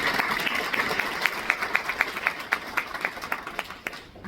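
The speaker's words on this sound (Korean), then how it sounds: "서로에게 환영의 마음을 담아서 박수 한번 보내드릴까요?" A conference audience at an AI hospital information system event, with guests from 25 countries, breaks into sustained applause: dense, steady clapping from many hands with a few sharper individual claps standing out, easing off toward the end.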